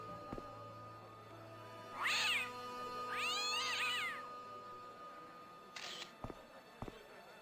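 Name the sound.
cat meowing in the video game Broken Sword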